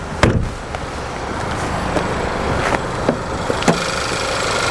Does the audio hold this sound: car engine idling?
yes